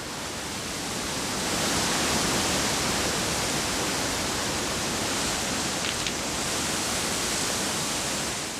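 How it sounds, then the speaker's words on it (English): A Norwegian fjord waterfall where salmon gather, a dense, even roar of falling water filling the whole stretch, steady and close with no voices. "The waterfall is a good hunting ground."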